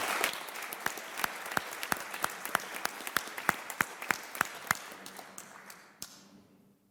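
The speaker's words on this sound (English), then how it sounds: "so please give them a round of applause" Sparse applause from a small club audience honoring volunteers at a Kiwanis meeting, a few distinct claps ringing out at moderate distance, thinning and ending near the close with near silence.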